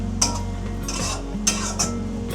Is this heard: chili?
yes